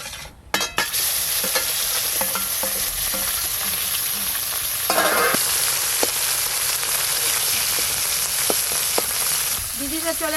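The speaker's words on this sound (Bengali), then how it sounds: "আর যে মাছগুলো আছে এবারে ভাজলেই সব মাছ ভাজা হয়ে যাবে।" A batch of small fish fries in a pan of oil, giving a dense, even sizzle close up, with scattered pops and a few sharp utensil clicks. No talking.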